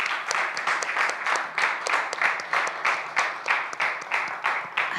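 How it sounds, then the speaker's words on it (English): An audience gives warm, sustained applause at a talk, with clearly audible individual claps landing in a fairly steady rhythm throughout. "At least a big round of applause"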